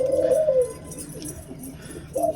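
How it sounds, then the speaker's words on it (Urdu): Pigeons, including red-tailed and black birds, coo softly in a low, throaty rhythm while eating grain and drinking water during rainy weather. There are a few close coos with quiet pauses between them and no talking. "کچھ کبوتر جو ہیں وہ دانہ پانی کھا پی کے یہ دیکھیں بڑے مزے کے ساتھ بیٹھ کے"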